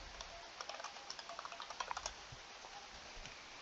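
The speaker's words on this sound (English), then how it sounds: "So we'll hit Control C on my keyboard and then Control V." Fingers tap a computer keyboard in a quiet room, quick irregular keystrokes clustered in the middle, soft and close over faint background hiss, with no talk.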